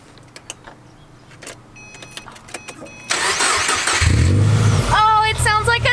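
A Subaru car engine cranks and catches after some faint clicks and people talking, then settles into a loud, steady idle close by with a higher whining tone on top.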